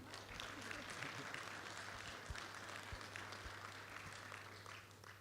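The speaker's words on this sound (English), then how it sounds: "I think that deserves another round of applause" Audience applause fills a conference room of about 100 people, a steady broadband patter of many hands sustained at moderate level throughout, with a low hum underneath.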